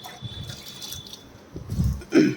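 Water from a bucket sloshes and splashes in short bursts as feet are washed, with a louder pour or splash near the end, close by and without speech.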